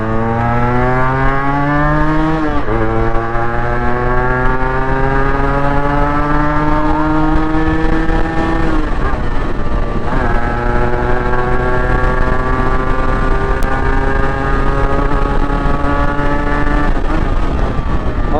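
A Yamaha RXZ two-stroke motorcycle engine with ported cylinders revs loudly up close, its rising whine climbing through several throttle sweeps and dropping sharply between them, with no voices.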